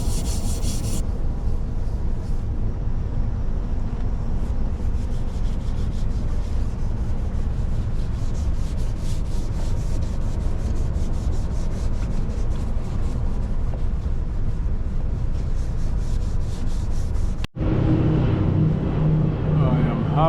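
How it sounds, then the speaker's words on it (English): A microfiber rag rubs and polishes car paint after a spot repair with Awlcraft 2000, making a loud, continuous, close wiping friction that ends abruptly near the finish. "using the microfiber rag and wiping it off, and it's as shiny as using the buffer"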